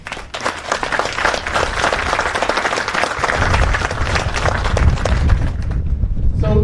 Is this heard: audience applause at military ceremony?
yes